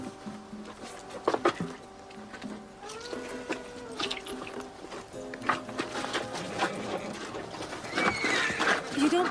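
A horse pulling a wagon whinnies and its hooves clop irregularly nearby, with voices talking over the movement and some splashing, watery sounds mixed in.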